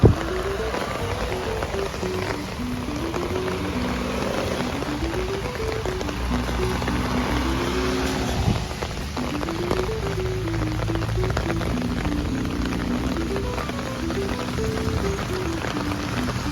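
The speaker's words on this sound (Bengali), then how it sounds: "এখন বৃষ্টি বাড়ছে মনে হচ্ছে" Steady rain falls on an evening New York street, a continuous close hiss of drops on pavement for the whole stretch, with faint tonal notes rising and falling underneath.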